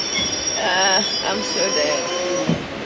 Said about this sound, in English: The busy, hectic train station.